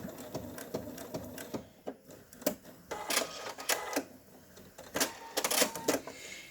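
A sewing machine stitches an applique on a hankie blankie in quick irregular bursts of clattering needle strokes, fairly faint and close, with brief pauses between runs and no talk.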